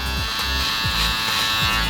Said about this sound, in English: I've got my wall cordless detailer.